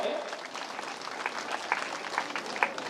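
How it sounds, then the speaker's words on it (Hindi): A crowd applauding at moderate volume at a political gathering in Rajnandgaon, India, a dense patter of clapping that holds steady for a few seconds, fairly distant. "एक बार जोरदार तालियों से स्वागत करें।"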